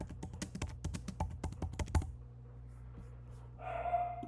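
Someone types on a computer keyboard while entering a note in a medical records system, producing a quick, close run of crisp keystrokes for about two seconds before it falls quiet, with a faint tone near the end.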